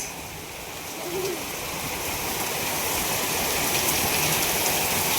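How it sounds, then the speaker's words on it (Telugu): Heavy rain driven by strong wind in a village in Andhra Pradesh, a steady close wash of dense hiss that swells slightly after the first second and holds without pause, with no voices. "చాలా గాలి వాన గాలి వాన"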